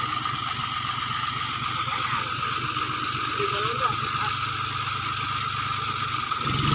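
A new farm tractor's engine runs steadily at idle with a low, continuous rumble throughout, while voices talk over it in the foreground.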